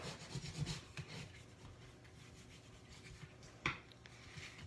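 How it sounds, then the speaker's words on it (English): Paper score lines on a folded slimline card burnished with a bone folder give a soft, close rubbing and scraping, faint and steady, with one sharper scuff near the end. "give it a burnish with a bone folder if you've got one"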